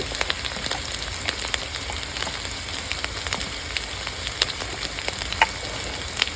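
Spice paste of green chillies, onion and salt frying in a pan for a Bengali fish, rice and dal meal, a steady soft sizzle with scattered crackles and faint clicks, fairly quiet and continuous with no voices.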